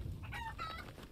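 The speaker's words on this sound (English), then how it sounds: "Catch the chicken." Chicken in the video game Resident Evil Village, a couple of short clucks, faint against a soft background.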